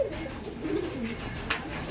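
A giribaz pigeon in a Murshidabad loft coos softly and close, a low warbling murmur rising and falling, with faint background chirps and no talk.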